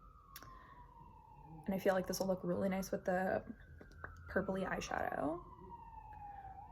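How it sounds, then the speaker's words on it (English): A distant emergency vehicle siren in a big city wails in a long, slowly falling tone behind someone speaking quietly up close. "Sorry for the sirens, I live in a metropolis."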